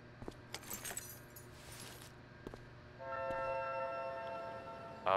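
Keys jangle in a short, metallic rattle at the start as they are picked up in the video game Life Is Strange: Before the Storm, followed by a steady, sustained tone.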